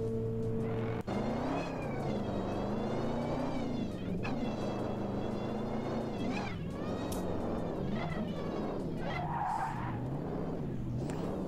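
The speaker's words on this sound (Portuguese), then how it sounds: "O carro do Piá é um Silvia." Nissan Silvia in the online drift game Drive Zone Online, engine revving and wailing with tire squeal as it slides, a continuous loud drone rising and falling in pitch throughout.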